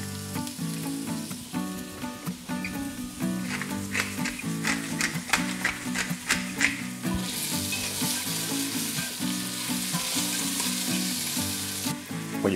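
Potatoes with mushroom caps and stalks fry in a pan for a vegan cream of mushroom soup, giving a steady, close sizzle with crackling bursts and faint clinks throughout, while background music plays along.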